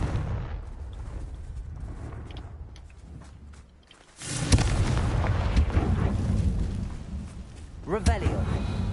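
A Confringo fire spell detonates in Hogwarts Legacy: a sudden loud burst near the middle, followed by a roaring, sustained blast and a second sharp flare, all rising out of quieter ambient game sound and voice.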